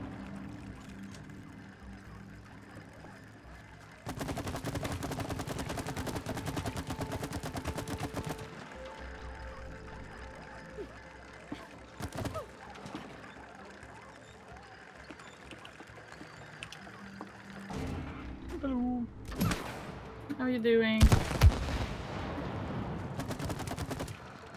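Video game gunfire from It Takes Two comes in several loud bursts of rapid shots separated by quieter stretches, with mechanical clanks and game effects mixed in and no talk.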